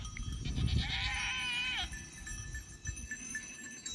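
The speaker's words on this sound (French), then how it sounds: "Il y a les chèvres qui arrivent" A single goat bleats, a wavering cry lasting under a second, over faint outdoor background noise.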